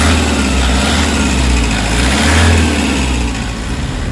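A Toyota HiAce van engine with low power and delayed throttle runs loud and close, its steady drone swelling in a rev before easing off slightly toward the end.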